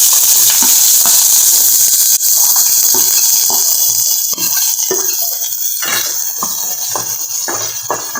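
Onions frying in hot oil in a pan with popped mustard seeds, a loud, constant sizzling hiss with intermittent stirring scrapes and spatters.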